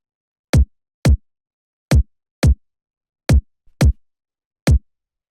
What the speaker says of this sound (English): After that we have the kick, which is 2 layers,